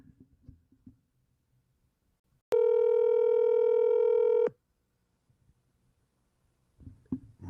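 A telephone call being placed: a steady two-second dial or ringback tone sounds loud and alone, framed by quiet background murmur before and brief voices after.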